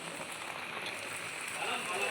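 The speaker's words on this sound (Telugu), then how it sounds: "వర్షం చాలా కొడుతుంది గాయస్" Heavy rain falls during the monsoon season, a steady hissing patter of drops on surfaces, fairly quiet and unbroken.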